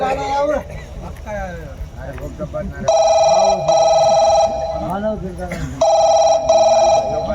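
A telephone rings in two-pulse bursts, loud and close, twice over, during a Dangi tamasha folk comedy show, while people talk in between and underneath the rings.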